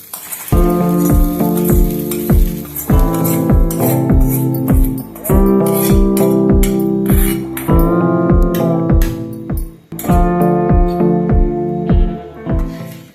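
Music plays over a steady rhythmic beat, with a faint sizzle of seasoning frying in hot oil for curry leaf flower rasam beneath it; no one speaks.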